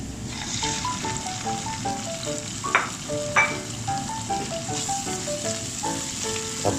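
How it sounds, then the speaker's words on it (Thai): Liver stir-frying with garlic in a hot pan, a steady close sizzle with occasional scrapes and clinks of the spatula stirring, no voices. "ผัดตับไปให้สุก"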